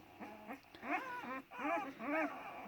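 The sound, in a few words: Anatolian shepherd dog puppies whimpering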